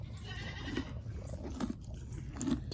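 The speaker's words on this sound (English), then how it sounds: "That donkeys that munch too loud." Donkeys munching loudly on feed, with repeated crunchy chewing and biting bursts close by over a low rumbling background, a few sharper bites standing out.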